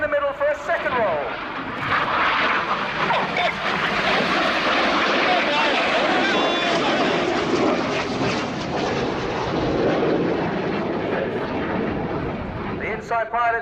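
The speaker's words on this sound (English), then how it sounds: "Pitching up, full power, 20 degrees nose up to roll," Red Arrows BAE Hawk T1 jets at full power during rolling manoeuvres at an airshow, a loud sustained roaring rush that swells and holds, with a commentator speaking throughout.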